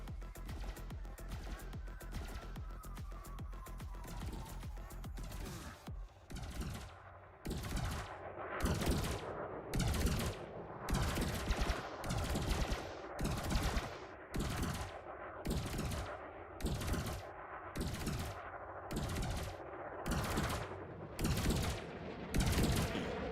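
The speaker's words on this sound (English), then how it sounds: "It's literally a laser shotgun" A laser shotgun fires in Elite Dangerous as a rapid, regular series of loud, sharp blasts. It starts as a fast stream, then settles into evenly spaced discharges with brief gaps.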